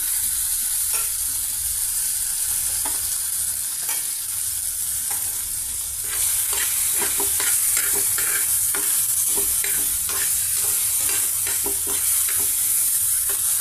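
Ginger paste and tomato pieces fry in hot oil for ragi upma, a continuous loud sizzle broken by repeated scraping and stirring clicks of a spatula against the pan, with no voices.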